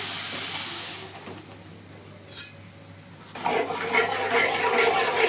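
Water poured into hot jaggery in a pan, a loud sharp hiss at the start that dies away, then renewed sizzling and bubbling.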